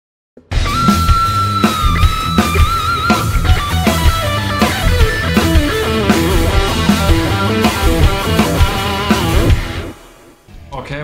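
An electric guitar lick with swooping slides: a sustained lead line bends and glides between high and lower notes over a full backing band with steady drums, loud and continuous.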